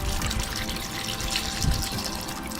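Water is poured into a pressure cooker holding two tomatoes, garlic and cumin, making a continuous close splashing gush for the whole moment with no voices.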